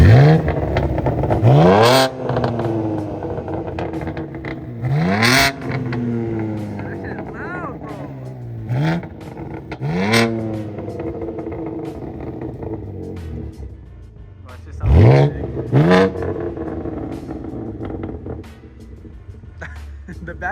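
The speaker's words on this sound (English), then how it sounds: "we're getting some revving clips" A BMW G82 M4 on air suspension revs repeatedly: several sharp throttle blips rise and fall in pitch over a steady idle, close and loud, with pauses between bursts.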